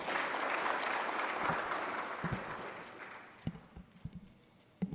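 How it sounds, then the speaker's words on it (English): Audience applause at the official launch of the 2023 Population and Housing Census, a dense sustained wash of clapping that gradually thins out, leaving a few scattered, louder individual claps near the end. "it's just fair to give him another round of applause"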